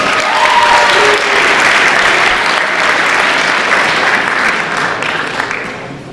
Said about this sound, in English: big round of applause for the girls volleyball team